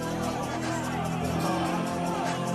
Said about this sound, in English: And the crowd is back into it.